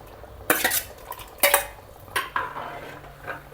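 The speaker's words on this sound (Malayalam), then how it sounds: "ഇപ്പോൾ ഇങ്ങനെ ഇളക്കാം" A spoon scrapes and clanks against a pot while stirring sardine curry with jackfruit seeds, several sharp metallic knocks spaced irregularly with softer scraping between them, close and without talk.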